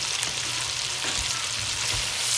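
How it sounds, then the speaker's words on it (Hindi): Chopped tomatoes sizzle and fry in a pan for kadhi pakora, a steady close crackling hiss with faint stirring, no voices. "टमाटर ऐड करने के बाद 3-4 मिनट इसको अच्छी तरीके से कुक करना है।"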